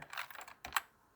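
Quick keystrokes clack on a cleaned-up Apple USB Extended Keyboard, a short burst of several taps ending in one sharper key press, close and fairly quiet with no talk.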